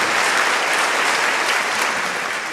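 Loud, dense applause from a live stand-up comedy audience fills the room, a steady unbroken wash of many hands clapping from start to finish.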